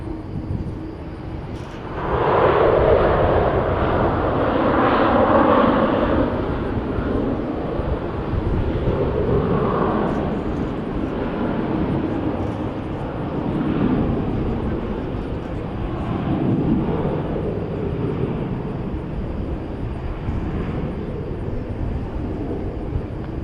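Airplanes at DFW Airport at night give a loud, broad jet roar that swells and slowly fades as an aircraft passes, with a steady distant rumble continuing afterward.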